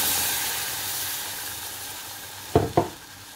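Milk stirred into a flour and butter roux in a pan for white sauce, a steady hissing sizzle followed by two quick scraping stir strokes near the end, close by.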